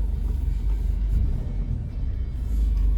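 Steady low rumble and vibration from a 2006 Toyota Corolla with a suspected broken motor mount, a constant droning hum with no talking.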